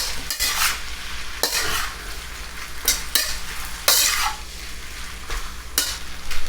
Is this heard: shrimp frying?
yes